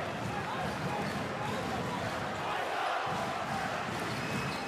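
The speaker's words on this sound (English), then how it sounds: "And the crowd getting very loud for Poland." Loud, dense arena crowd roar at a EuroBasket 2022 quarter-final basketball game between Slovenia and Poland, swelling steadily and continuously with a commentator's voice over it.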